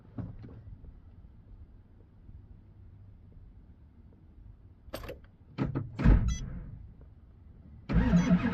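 A car engine being restarted on a freezing cold morning after the clutch pedal is worked, with quiet idle rumble and wind noise, a few clunks, then a sudden loud cranking burst that catches and keeps running.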